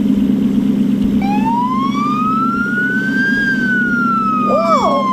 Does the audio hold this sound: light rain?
no